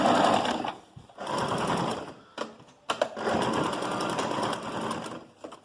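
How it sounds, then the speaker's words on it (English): Sewing machine stitching a zip onto a dress, running in several close, steady bursts separated by short pauses and clicks as the fabric is repositioned. "you just sew straight without considering it being here"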